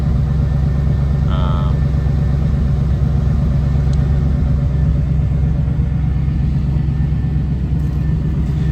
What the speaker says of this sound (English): It's a little bit louder than stock, although I would definitely not call it like obnoxious. Just has a little bit of a deeper rumble to it.